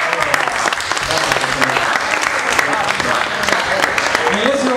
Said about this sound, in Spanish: Un aplauso a nuestras esposas